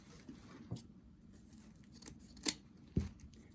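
Scissors cut ribbon for a front-door bow, giving several quiet snips with two crisper, close cuts near the end, each separated by soft handling noise in a calm room.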